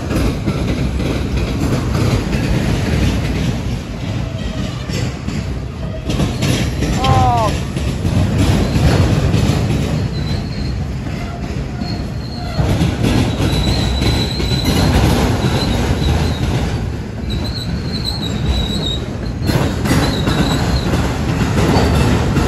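A CSX freight train switching in a rail yard, railcars rolling with steady rumbling and wheel clatter, a few high wheel squeals and whines throughout, with some voices faintly mixed in.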